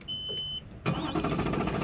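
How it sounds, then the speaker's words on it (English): A Mercury 250 Pro XS outboard boat engine cranks and catches after a short electronic beep, settling into a loud, close, rough running roar. "let's fire this Merc up."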